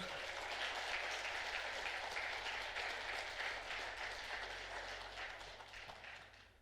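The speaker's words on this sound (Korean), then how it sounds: "박수 좀 주세요" Church congregation clapping together in a hall, a sustained burst of applause that is fairly quiet overall and gradually fades out over several seconds.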